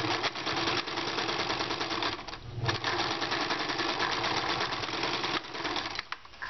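A sewing machine runs a seam on a raglan shirt, a fast, continuous mechanical chatter close to the ear with one short pause partway through, then a few uneven stitches near the end.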